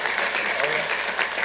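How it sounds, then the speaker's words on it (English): Applause from a crowd at a city council meeting, dense steady clapping over the whole short stretch. "Let's give him a round of applause."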